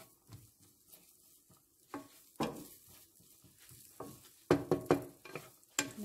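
Diced potatoes frying in a pan as they are stirred, cooked before being mixed with corned beef: a soft sizzle under intermittent close scraping and clattering strokes of a utensil against the pan.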